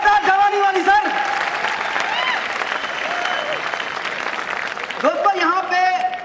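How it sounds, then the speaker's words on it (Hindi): An audience at a wellness company's celebration show breaks into loud, sustained clapping. A voice is heard at the start and again near the end over the applause. "सभी लोगों के लिए तालियां होनी चाहिए, जोरदार तालियां, जबरदस्त तालियां"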